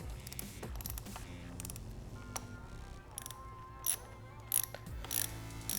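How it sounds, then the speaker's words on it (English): A ratchet with a 10mm socket loosens a nut on the pivot bolt of a 2017+ Yamaha R6, giving quiet close clicking runs and a few sharper metallic ticks over low background noise. "grab our 10mm socket and loosen the nut on the bottom of the pivot bolt"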